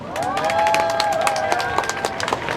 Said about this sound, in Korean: 따뜻한 연대의 박수로 윤미향 대표님을 맞아주시기 바랍니다